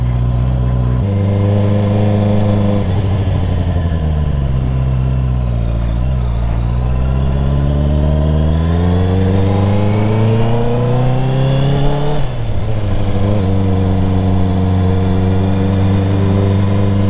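A 2021 Honda CBR 650R motorcycle fitted with an Akrapovic exhaust revs steadily and loudly up close, its engine note climbing and falling in repeated sweeps over about seventeen seconds with no talking.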